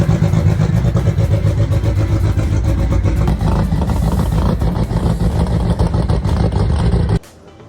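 Drag racing car with a D Series engine at a Santa Pod Raceway display during Silverstone Festival 2025, revving hard in a dense, roaring, close and very loud blast that holds steady for about seven seconds and then cuts off abruptly.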